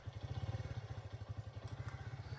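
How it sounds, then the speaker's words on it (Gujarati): A motorcycle engine runs at a steady idle with a low, even thumping pulse, close by and moderately loud, with no talking over it. "અરે બાઇક ચાલુ થઈ ગઈ"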